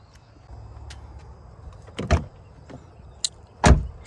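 A Jeep Wrangler Rubicon's door is unlocked and opened with soft clicks, then two solid thunks of the latch and door close by, over a quiet background hum.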